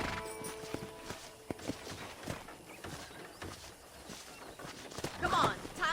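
Horse hooves clip-clop at a walking pace on a ranch in the Western video game Red Dead Redemption, the steady footfalls sounding faintly under spoken dialogue.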